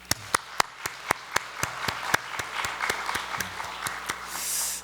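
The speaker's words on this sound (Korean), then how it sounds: "우리 박수 한번 할까요?" A church congregation at a Friday prayer meeting applauds, with sharp, evenly spaced claps ringing out over a soft crowd clatter that swells toward the end.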